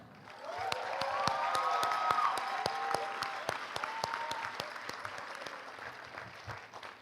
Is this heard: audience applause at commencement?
yes